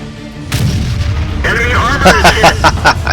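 SU-152 tank gun fires in a tank video game, a loud heavy boom with rumbling tail, followed by clattering game effects while someone talks over it.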